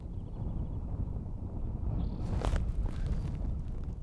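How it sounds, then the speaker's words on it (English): Gusty wind buffets the microphone at an outdoor shooting range, a constant low rumble with a brief brighter rustle midway, loud and close with no talk. "It's kind of getting a little breezy."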